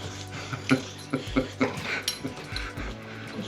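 A dog whimpers and whines in short high bursts, close by, with faint rustling and scuffling around it.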